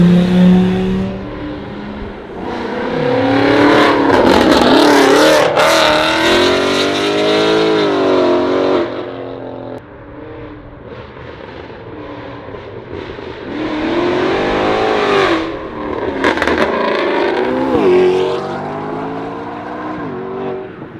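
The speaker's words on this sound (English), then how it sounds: "There's fucking traffic coming." Cars revving hard and roaring past at a Raleigh Cars & Brunch meet pullout, two loud passes with rising engine pitch, close to the listener and filling the scene.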